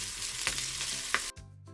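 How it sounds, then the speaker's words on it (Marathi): Hot oil sizzles steadily as cumin, turmeric, curry leaves and green chillies are tempered, with a couple of sharp crackles and pops before the hiss cuts off abruptly. "एक दोन चमचे तेलामध्ये मोरी जिरे हळद कढीपत्ता आणि हिरवी मिरची घालून छान फोडणी करून घेतलेली आहे"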